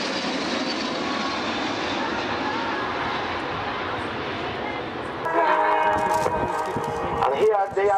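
Six-aircraft display formation making a flyby at an air show, a steady jet roar that swells and grows louder partway through, with a commentator talking over it.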